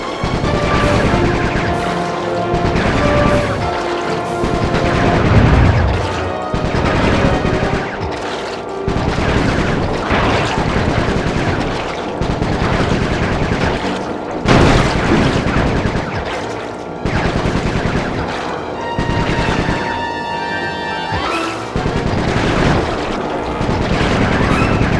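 Bentley's gunfire in the video game Sly 3 rattles in rapid repeated bursts with heavy booms and crashes, loud and continuous, layered over game music and effects.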